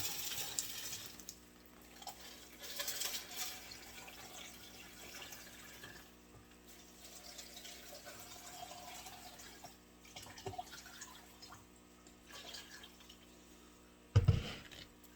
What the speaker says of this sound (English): let's add a little water in these things so we can plant